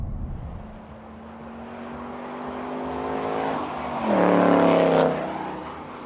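A 2018 Ford Mustang GT V8 engine droning steadily, then swelling into a louder, deeper rev for about a second before easing off, heard alone without talk.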